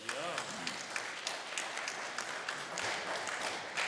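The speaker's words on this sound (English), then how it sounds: "That's the first time I've ever gotten applause for that." Audience applause at a community gathering, a steady wash of many hands clapping that stays fairly even throughout, with voices mixed in underneath.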